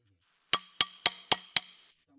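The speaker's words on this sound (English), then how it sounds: "Use a pry bar and hammer to slightly spread the gap on the lower mount bracket." Five sharp metallic hammer strikes on a pry bar spreading a Honda Civic's lower coilover mount bracket ring out in an even rhythm, each with a brief bright ringing decay, then silence.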